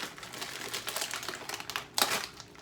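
Household scissors snipping through a pepperoni stick in a kitchen, a string of close, soft crunchy cuts and rustles with one sharper snip near the end, and no talking.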